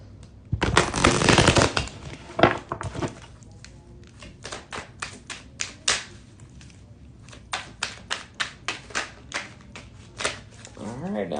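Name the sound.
shuffling a deck of cards for a reading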